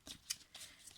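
Oracle cards are shuffled in a few quick, soft papery riffles, faint and close, with no talking.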